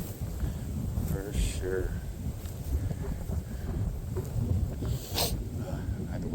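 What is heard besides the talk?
strong wind blowing across a field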